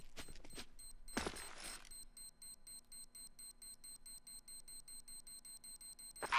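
In a Counter-Strike style competitive match, the planted bomb emits a steady series of evenly spaced high electronic beeps at moderate loudness. A brief burst of noise comes just before the beeping, and no one talks.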